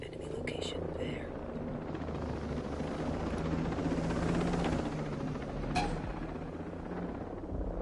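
A helicopter in the video game Ghost Recon Breakpoint gives a continuous loud rotor and engine roar that swells slightly and fades, with a few sharp clicks and game effects over it.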